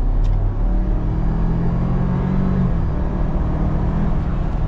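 A lifted new Ford Bronco with a 2.3 engine accelerating hard at full throttle, a loud, continuous engine roar and drivetrain rumble heard from inside the cabin, building steadily with no talking.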